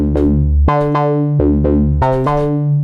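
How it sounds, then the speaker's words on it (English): A Moog Sub 37 analog synthesizer plays a bright, buzzy short repeating melody with a steady low bass note underneath, rich in harmonics and sustained. "we've got here a sound on a synthesizer."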